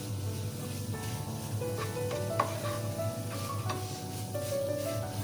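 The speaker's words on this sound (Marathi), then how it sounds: "हा बघा, मी अमूलचा खवा घेतलाय. खवा घेतलाय भाजायला." Amul khoa roasting in a pan over medium heat, a steady soft sizzle with occasional spatula scrapes, heard close against a constant low background hum.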